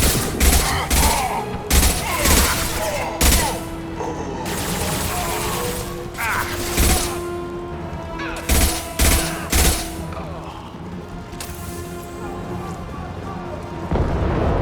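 Rapid gunfire fills a firefight in Mass Effect 2, dense bursts of automatic shots and sharp impacts crackling loud and close, with voices calling out amid the shooting.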